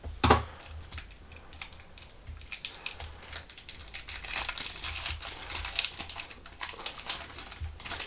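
A trading card packet wrapper being cut open and crinkled up close, with a sharp snip at the start followed by continuous crackling plastic rustles, no voices.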